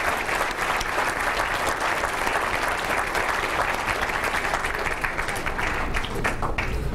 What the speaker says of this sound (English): How about a round of applause for all of our athletes?